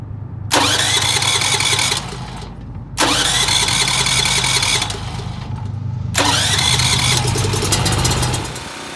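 A Champion dual fuel generator running on LP is started three times, each attempt a loud engine burst lasting about two seconds before cutting back, with short gaps between.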